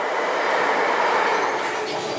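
A British train rolls along the railway with a steady, loud rumble and faint wheel clatter, heard from inside the carriage with no one talking.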